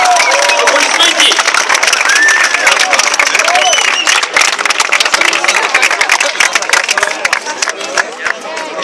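Dense crowd applause with clapping and scattered cheers fills the air at a Champions League trophy event in Veliko Tarnovo, steady and close throughout.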